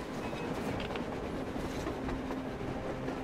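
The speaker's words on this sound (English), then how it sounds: "A damn train on the surface!" Train rolling past on the surface in the video game Metro Exodus, a loud continuous rumbling clatter of wheels on rails, steady throughout and close.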